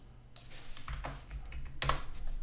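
Typing on a computer keyboard while working in Unreal Engine 4.23, with a steady run of close key clicks and a couple of sharper, louder keystrokes near the end.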